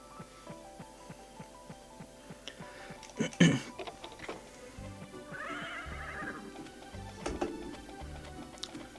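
A horse in the farming video game Story of the Seasons neighs in a loud, wavering whinny midway through, over steady rhythmic hoof clip-clops and soft game sound effects, with a brief voice nearby.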